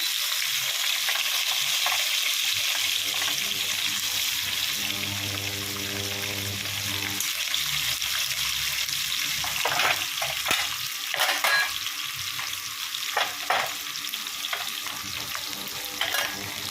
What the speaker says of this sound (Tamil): இப்போ வந்து வெங்காயம் போட்டுக்கலாம்